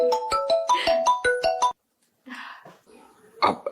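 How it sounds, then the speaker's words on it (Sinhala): A phone ringtone for an incoming call plays a quick repeating electronic melody of bright tones, loud and close, for under two seconds before it stops; after a short silence there are faint rustling and handling sounds. "මට සුදුගෙන් කෝල් එකක්."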